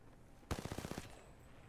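A short automatic burst of gunfire in a video game, about eight rapid shots lasting half a second, loud and close after a quiet start, then fading into low background hum.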